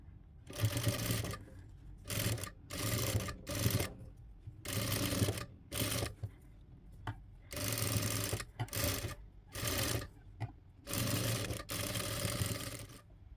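Sewing machine stitching a nighty neckline, running in repeated bursts of steady whirring and needle chatter separated by brief pauses, close and clear with no talking.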